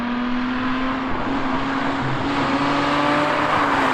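A rear-wheel-drive Mazda RX-8 with 231 bhp, heard from inside while driving, gives a steady droning engine hum with a sustained tone and road noise, without talking.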